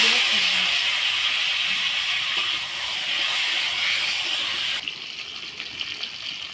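Vegetables dropped into hot oil tempered with dried red chilli and five-spice for a papaya fish curry, a loud, dense, steady hiss that drops a little partway through and then continues with light crackle.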